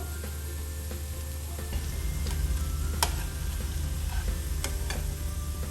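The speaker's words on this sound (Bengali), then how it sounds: "এখন আমি সবগুলো এইভাবে করে ভেজে নিব ভিউয়ার্স।" Water lily flower pakoras frying in hot oil, a continuous close bubbling sizzle with a few sharp ticks and clicks from a utensil, growing a little louder partway through, with no voices.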